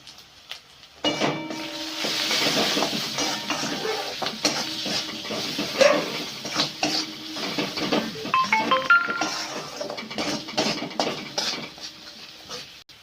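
Cumin, turmeric and chili powder with salt cooking in a pan for an okra dish, a steady sizzle with frequent scraping and clinking of a spatula against the pan, close and continuous.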